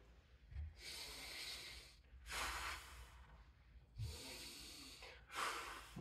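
Slow, deliberate breaths during a dead bug exercise, four long airy inhales and exhales in a steady rhythm, close and quiet with no talking over them.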